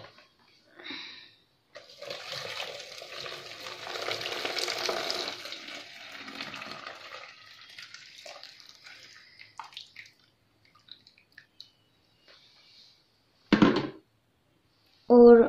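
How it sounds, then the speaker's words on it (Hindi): Hot water poured onto torn paper pieces in a container gives a soft splashing, trickling pour lasting several seconds before tapering into drips, followed by brief clunks and scrapes. "अब हम इसके अंदर वाटर ऐड करना है। तो हम लोग डालेंगे इसके अंदर हॉट वाटर।"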